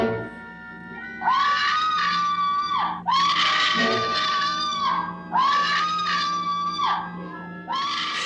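Several long, piercing female screams from the 1959 horror film House on Haunted Hill, each rising and sustained for about a second, repeating in quick succession over a low background rumble.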